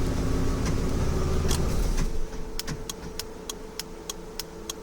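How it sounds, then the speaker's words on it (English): A plug-and-play remote start unit on a 2008–2010 Ford Super Duty truck gives four crisp, evenly spaced relay clicks after engine rumble drops away, heard close up inside the cab. "this unit's going to click back 4 times"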